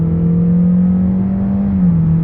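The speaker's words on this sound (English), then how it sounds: "Engine noise, but it's only when you plant it." A 2022 Honda HR-V e:HEV hybrid with a CVT under hard acceleration gives a steady, loud droning engine note that holds one pitch and dips slightly at the end, heard from inside the cabin.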